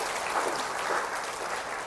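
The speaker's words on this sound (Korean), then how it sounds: "박수 한번 주세요" An audience at a church gathering claps together for two seconds, a steady wash of applause in a hall with no voices over it.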